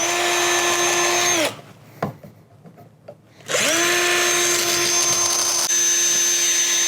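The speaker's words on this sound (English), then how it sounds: "All we're trying to do is drill a hole" A Harbor Freight power drill whines steadily at close range drilling a hole to mount a truck tailgate awning, cuts off for about two seconds, then revs back up and keeps running.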